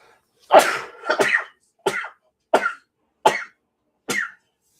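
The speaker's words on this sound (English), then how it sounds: "It's been making me sneeze like crazy." A person sneezes six times in a row, each an abrupt explosive burst separated by short pauses of silence, close and clear, the first two strongest.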